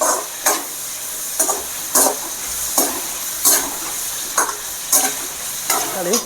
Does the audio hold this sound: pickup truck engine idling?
no